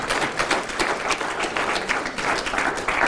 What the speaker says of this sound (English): I'll give a round of applause one more time.